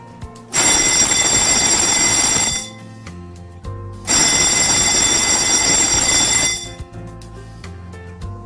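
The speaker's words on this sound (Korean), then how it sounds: "화재 표시 등 주경종, 지구경종, 시각 경보기가 정상적으로 작동하는지를 확인합니다." Fire alarm test at a game arcade: a loud, piercing electric bell rings for about two seconds, stops, then rings again for a similar stretch, close and alone.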